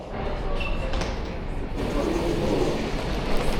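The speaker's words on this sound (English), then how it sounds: "that's the shuttle train coming just now" An airport shuttle train at JFK Terminal 5 rumbles steadily as it pulls in, with a continuous mechanical roar and faint muffled voices in the background.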